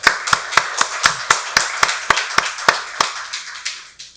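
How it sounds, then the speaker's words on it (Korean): Hands clapping in a church worship service, a series of sharp, fairly close claps at a steady beat over about four seconds, fading near the end. "박수로 하나님께 영광 돌리겠습니다."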